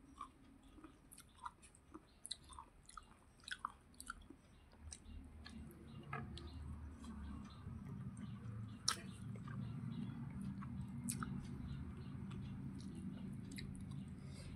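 Someone eats small bata fish cooked in a jhal curry, chewing close to the mic. The wet, squishy chewing comes with frequent soft clicks and crunchy bites, steady and unhurried, with no talking.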